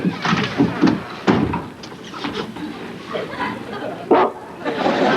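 A man barks like a dog, imitating it with several short voiced barks spread through the clip, close and fairly loud, with a door-like knock in the middle.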